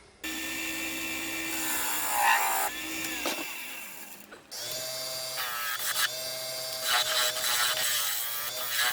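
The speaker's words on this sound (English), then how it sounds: "So now I'm going to put a mortise in." A woodturning lathe tool cuts a mortise into a sycamore bowl, giving a continuous close whining, rasping scrape that stops briefly midway and then resumes with a brighter, harsher edge.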